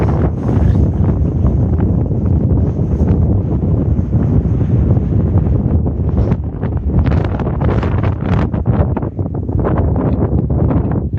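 Strong wind at a mountain viewpoint on the Continental Divide Trail buffets the microphone in loud, continuous gusty roars that swell and ease throughout.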